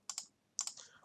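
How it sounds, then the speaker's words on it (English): A few crisp, faint computer keyboard keystrokes, two quick taps, then a pause, then another short cluster of clicks in a quiet room. "So I can start typing"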